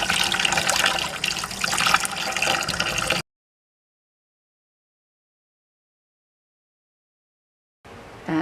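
Yarn with bleeding black and red dye being rinsed under running water, a close rush and splash for a few seconds, then a sudden silence before the water sound briefly returns.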